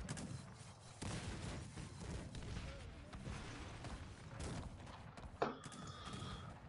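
Cannon fire rumbles in a chaotic Cossacks 3 multiplayer battle, with dense low booms and scattered gunfire over a continuous mechanical din, horses faintly mixed in, and one sharper blast standing out near the end.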